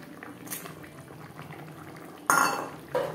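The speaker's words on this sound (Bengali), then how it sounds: "গ্রেভি বেশ ভালো করে ফুটতে শুরু করে দিয়েছে।" Katla fish kalia gravy bubbling steadily in a pan, a soft continuous simmer close by, broken near the end by two loud clatters of a utensil against the pan.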